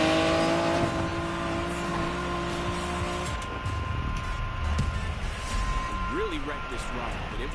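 Racing car in a PS4 racing game revving and drifting, engine tones sliding up and down with a brief tire squeal, steady and close under a voice talking.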